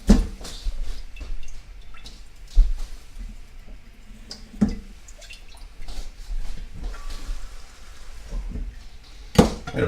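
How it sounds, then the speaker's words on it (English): Water poured into a pan of pork salsa pasta, with scattered drips, splashes and sizzling taps coming in irregular bursts, close and moderately loud. "We get a little water in there."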